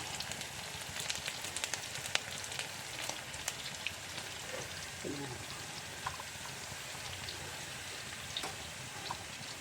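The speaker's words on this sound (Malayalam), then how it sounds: "നമുക്ക് കറിവേപ്പില ഇട്ട് കൊടുക്കാം." Curry leaves crackle and sizzle in hot oil for a Kerala fish curry, a dense, steady spitting hiss with scattered sharp pops, heard close throughout.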